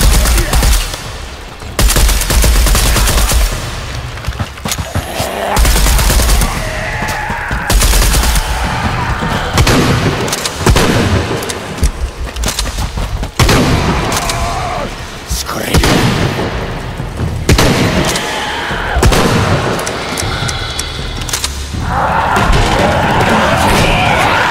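Gunfire and explosions in Shadow of the Tomb Raider come as loud, repeated bursts and booms, with crashing impacts and a dense, chaotic combat din throughout, and a voice talking at times underneath.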